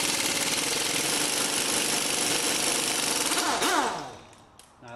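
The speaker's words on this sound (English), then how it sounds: "Now what I'm going to do is take off the CV joint bolt" Impact wrench with a 32 mm long-reach socket hammering loose the CV joint bolt on a Toyota Corolla, a loud continuous rattling burst that winds down and stops, followed by quieter clinks.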